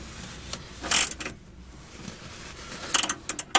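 A wrench snugs a stud nut on an aftermarket sway bar of a second-generation DSM car, making quick bursts of close metallic ratchet clicks separated by a quiet pause, with no talk.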